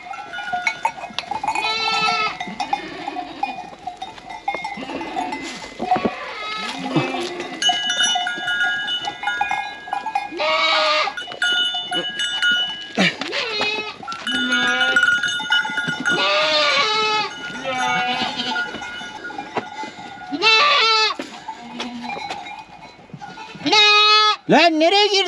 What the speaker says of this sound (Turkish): Keçi niye acı acı bağırıyor lan?